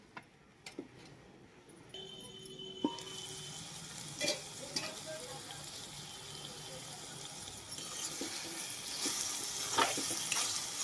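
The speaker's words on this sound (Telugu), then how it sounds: "ఉల్లిపాయలు పచ్చిమిరకాయలు ములక్కాయలు అయితే మగ్గుకొని" Sliced onions, green chillies and drumstick pieces frying in a pan, a soft continuous sizzle with scattered clicks and utensil taps, growing slightly busier toward the end.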